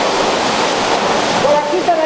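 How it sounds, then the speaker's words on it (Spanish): Spring water rushing steadily down from the community's drinking-water source in El Alizal, a constant broadband splash close to the microphone, with brief faint voice-like tones near the end. "esa agua que baja de arriba y va a salir a la parte de allá abajo"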